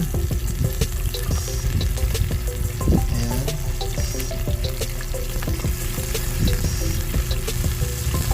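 Chicken pieces frying in hot oil for adobo, a steady loud sizzle and crackle running throughout with small pops, no talking.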